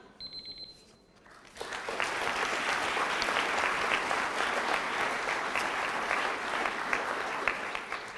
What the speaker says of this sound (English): once again, a hearty round of applause for all our debaters